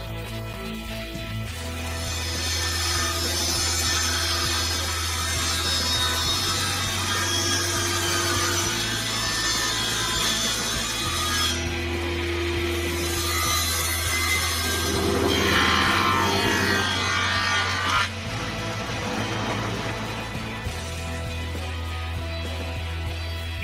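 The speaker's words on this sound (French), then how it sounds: "puis j'ai découpé les tasseaux d'une largeur de 42 mm." A power saw rips wooden battens down to 42 mm width for a wooden step stool, a loud continuous whine and rasp of blade through wood with a steady motor hum, the cut changing pitch as it progresses.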